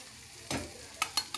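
Pasta with pasta masala, red Kashmiri chilli, salt and turmeric being stirred in a pan, a few quick scraping strokes over a faint sizzle, close and with no talk.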